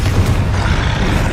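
A Bombarda spell explosion in the video game Hogwarts Legacy: a loud, continuous low booming rumble that fills the short moment without letup.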